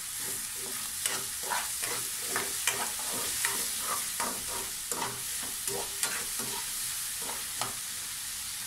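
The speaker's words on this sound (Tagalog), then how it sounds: "Haluin na natin." A native chicken dish is stirred in a pot over steady sizzling, with a spoon scraping and knocking in irregular strokes roughly every half second, close and clear, and no talking.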